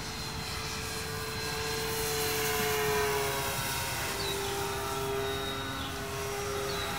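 A Flyzone Focke-Wulf Fw 190 RC model plane (1130mm) flies at full throttle on its maiden flight, giving a continuous whining motor drone that rises and falls slightly in pitch as it passes overhead outdoors.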